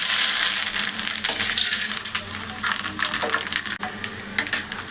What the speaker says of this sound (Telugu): ఇక ఇక్కడ అప్పడాలు ఫ్రై చేస్తున్నానండి